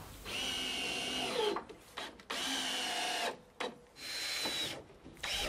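A power drill drives screws into a wooden batten on a summerhouse shed, sounding as several close, loud whirring runs that stop and start with short pauses between.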